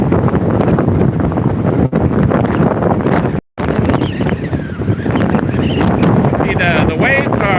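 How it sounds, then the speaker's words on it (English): Hurricane Nicole's strong wind buffets the microphone in a constant loud roar on the Florida coast, with waves and water movement and a brief dropout midway. "Very, very windy right now."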